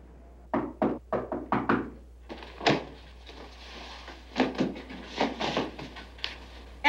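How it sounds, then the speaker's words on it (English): Knocking on a door in a 1976 drama: a quick series of five sharp close raps, then a scattered run of further knocks and thumps, with no speech. "Why'd you knock?"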